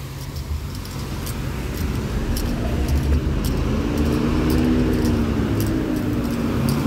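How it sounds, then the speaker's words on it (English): Cars pass loudly along a city street in the Kensington neighborhood, a continuous engine rumble and road roar with a tonal hum building midway, heard up close from the sidewalk with no talk. "A lot of people go around here driving their vehicles in this area loudly."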